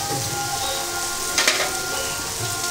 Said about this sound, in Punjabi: ਤੜਕਾ ਸਾਡਾ ਪੂਰੀ ਤਰ੍ਹਾਂ ਭੁੱਜ ਗਿਆ ਹੋਇਆ